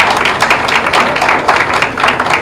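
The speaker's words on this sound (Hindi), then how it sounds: "उनके लिए एक बार सभी ताली बजाएंगे।" An audience at the inauguration of an innovation centre gives the OYO founder a dense, loud round of applause, with many hands clapping continuously and evenly throughout.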